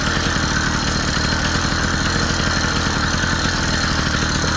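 A small gas engine on a motorized bicycle runs steadily under way, close and loud, with an even mechanical drone and no talking.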